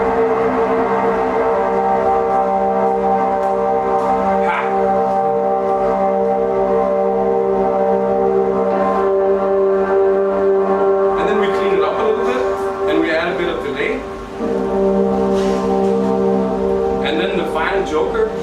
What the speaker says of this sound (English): try to hear how it sounds when I start adding the resonator